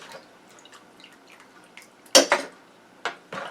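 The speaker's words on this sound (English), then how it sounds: "So I'm just gonna put the celery and onions in the Ninja" Chopped celery and onions dropped into a plastic Ninja blender container, a few soft scattered taps, then three sharper thuds and clatters as pieces land, close by in a quiet kitchen.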